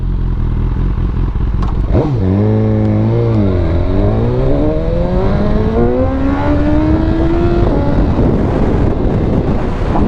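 A Porsche accelerates hard past a street corner, its engine note sweeping up through the gears with a dip at a shift, loud and close, buffeted by wind noise.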